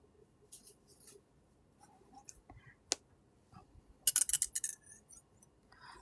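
Pliers grip, bend and fold craft wire to shape a letter for a wire-wrapped name charm, producing sparse faint metallic ticks and clicks, then a brief busier cluster of scraping clicks, in an otherwise quiet room.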